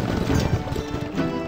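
Rapid hoofbeats of a galloping horse in a video game pound steadily and loudly up close, a dense drumming rhythm with no pauses.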